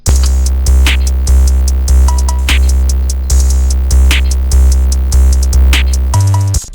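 A loud, steady trap beat with booming deep 808 bass, regular snare claps and rapid hi-hat ticks, ending with a pitched bass slide.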